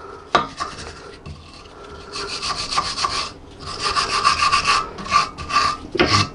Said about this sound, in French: Un bon coup de brosse.